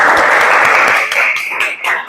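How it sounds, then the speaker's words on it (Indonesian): A classroom of vocational high school students applauds a student group, a brief burst of close, loud clapping that thins out after the first second, leaving a few scattered claps. "Kita beri tepuk tangan."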